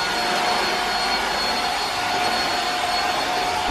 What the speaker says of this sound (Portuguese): E aí eu vou passar um aspirador de pó de mergulho.